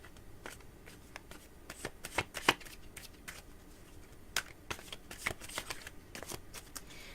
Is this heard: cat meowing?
no